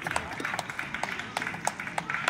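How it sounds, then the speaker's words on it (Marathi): An audience at a prize-giving breaks into loud, sustained applause, rapid claps rising and falling in irregular bursts while someone talks over them. "जोरदार टाळ्या वाजवूया आपण।"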